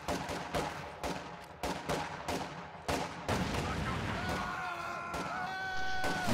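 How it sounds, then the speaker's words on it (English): An MG-34 machine gun fires in a World War II strategy video game, in rapid bursts of sharp, loud reports separated by short gaps, followed by heavier blasts and a ringing, whining tail. "MG-34 has been fielded"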